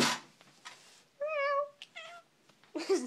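A cat meows several times in short, clear, tonal calls, a close and fairly loud voice heard alone between brief rustling noises.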